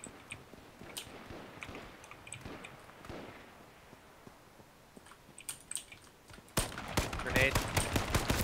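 Rapid AK gunfire bursts in the H1Z1 video game, quiet scattered shots early, then a dense loud volley near the end, with talking in between.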